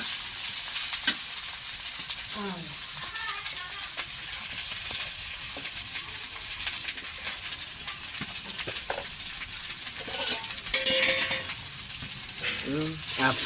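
River ghaura fish frying bhuna-style in a pan, a steady close sizzle with occasional stirring scrapes throughout.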